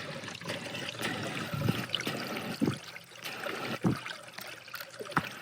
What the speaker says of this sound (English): That's air escaping from inside the thing.